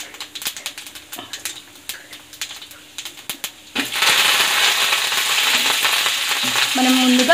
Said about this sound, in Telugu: మనం ఆల్రెడీ పక్కన ఉంచుకున్నాం కదా ఆ పోపులు అనేవి వేసేసుకోవాలి, అవి చిట్టుపట్టమన్నాక